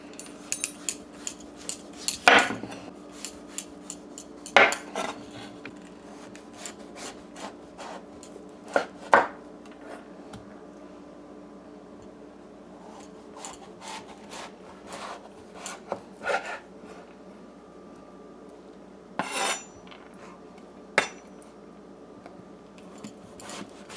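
A green papaya is peeled and cut up on a board. Sporadic scraping and knife chops sound close by over a quiet background, with a few louder strikes and long pauses between them.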